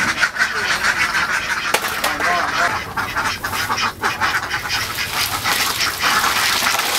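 Farm ducks raised under a livestock program quack steadily in a loud, crowded chorus of overlapping calls, with a narrator speaking over them.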